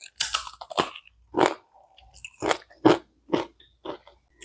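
Crunchy sugar-free snack chips, eaten like tortilla chips, are chewed close up in a series of sharp crisp bites and crunches separated by short pauses.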